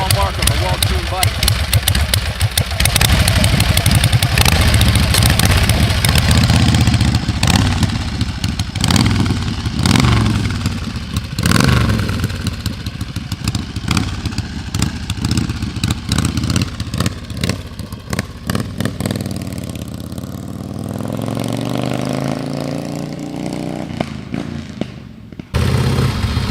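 A 1974 Harley Davidson XLCH1000 Sportster runs loud and close, its engine idling with a lumpy thumping beat and clatter, blipping up in revs at times and settling back before the sound cuts off abruptly at the end.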